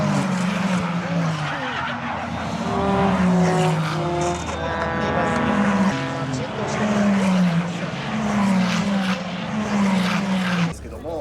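Porsche Carrera Cup race cars roll past at a rolling start at Suzuka circuit, engines loud and close, their pitch rising and falling in sweeps as the pack accelerates, with an amplified commentator talking over the roar throughout.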